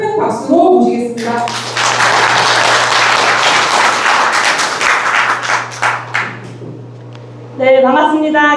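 Sustained audience applause greets a Basic Income Party lawmaker arriving to speak at a rural basic income legislative forum at an agricultural technology center in Boseong, Jeollanam-do, a dense clapping wash lasting several seconds between brief voices before and after.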